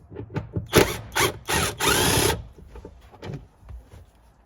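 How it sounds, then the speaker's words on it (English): A hand ratchet fitted with a 14mm socket loosens the bolts of a seat belt casing inside a Toyota Sienna minivan. Close, quick clicking pawl bursts alternate with a few longer ratcheting runs, then fade into lighter taps. "we'll take a 14mm socket and we're going to undo this seat belt casing right here"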